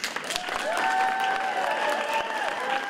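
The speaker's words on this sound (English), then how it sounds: "to a round of applause from supporters and his future cabinet" Supporters and a future cabinet applaud Ralph Northam in a conference room of the Patrick Henry building, a steady round of clapping under several voices that carries on through the whole stretch.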